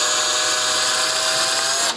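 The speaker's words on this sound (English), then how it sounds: "just drill it down to the tape" A power drill bores a strap button screw hole into a guitar body, a steady high-pitched whine held for about two seconds before cutting off sharply at the end.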